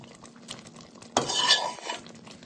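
Chicken pieces added to simmering butter chicken gravy in a pot, with a few soft clinks of a spoon, then a sudden loud wet clatter and stirring that gradually fades.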